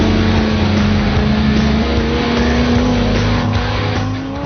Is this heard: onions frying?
no